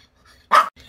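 A Maltese dog lets out a single sharp bark, loud and close, in an otherwise quiet indoor room.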